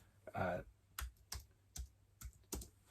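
Computer keyboard typing a search query: a short flurry of keystrokes followed by several separate, crisp key taps, close and fairly quiet.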